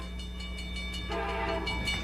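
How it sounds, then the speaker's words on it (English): A big train rumbles steadily past, its horn sounding in sustained tones that swell louder after the midpoint, with a constant low rail hum underneath and no talking. "That's a big train."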